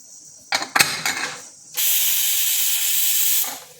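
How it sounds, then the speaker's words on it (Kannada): Pressure cooker whistle venting steam over mushroom biryani, a few clattering metallic rattles first, then a loud continuous hiss that holds steady for about two seconds before cutting off. "ಮುಚ್ಚಲ ಮುಚ್ಚಿ ಒಂದು ವಿಷಲ್ ಆಗೋ ತನಕ ಬಿಡೋಣ"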